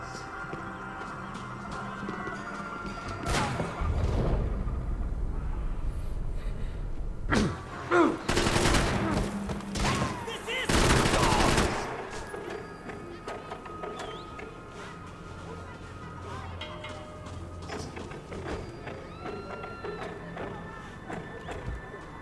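Gunfire from the video game Max Payne 3 rings out in several sharp bursts, loud and close, with mechanical clatter between them over a busy game soundscape.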